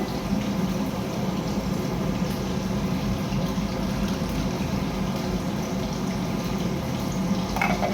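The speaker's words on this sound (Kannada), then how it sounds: "ಸ್ವಲ್ಪ ನೀರು ಹಾಕ್ಬಿಟ್ಟು ಸೋಸ್ಕೊಳ್ಳೋಣ" A steady wash of water pouring and splashing into liquid to strain tamarind, continuous and fairly soft, with a small clink near the end.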